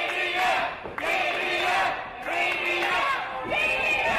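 Rowdy wrestling fans yelling and cheering inside the FSW Arena, a loud continuous roar of many voices with rising shouts and whoops that swell and dip in waves.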